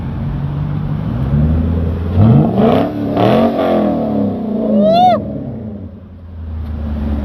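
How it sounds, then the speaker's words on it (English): A nearby Lexus GS460 engine revs up several times through a deep, throaty true dual X-pipe exhaust, rumbling between bursts with a brief whistling chirp near the end. "I did a True Dual X-Pipe exhaust on there with the gritty tips"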